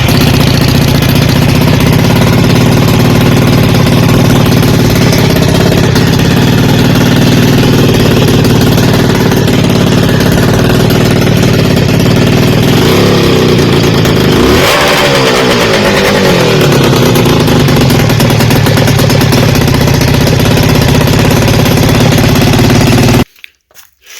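Custom ATV with a 440 twin two-stroke engine, running on one cylinder because of a bad dual coil, drones loudly and steadily at close range, with a brief rev midway before it cuts off at the end.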